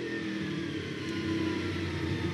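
A V8 Supercar racing engine revs hard with wheel spin at Sandown, a steady, distant-sounding mechanical drone heard briefly without talk.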